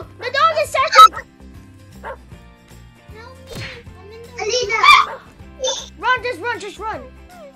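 A dog in a video game barks and yips repeatedly in short bursts, loud and close, mixed with game music and other game sounds.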